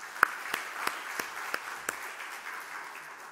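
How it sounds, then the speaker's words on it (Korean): A church congregation claps in a short burst, a few loud rhythmic claps standing out over a soft patter that quickly thins and fades. "박수 한번 합시다."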